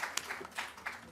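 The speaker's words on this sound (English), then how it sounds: "An applause for him." Scattered hand claps from an audience greet a professor at an evening talk on Indian perfume history in New Delhi, a brief sparse patter of a few distinct claps.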